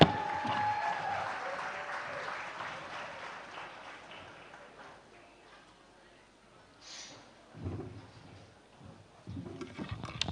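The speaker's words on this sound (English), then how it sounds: "Round of applause for the one and only Chioma Ude." Audience applause at a film festival opening event, broad and sustained at first then fading, with a brief whistling tone early and later bursts of crowd noise.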